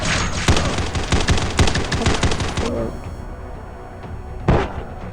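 A rapid burst of heavy minigun fire in a video game rattles loudly for a few seconds, stops, then a single louder blast follows amid game noise.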